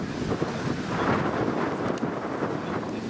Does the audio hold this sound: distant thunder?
yes